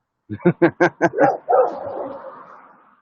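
A dog lets out a quick run of five sharp barks, then a longer yelping howl that trails off, close and loud.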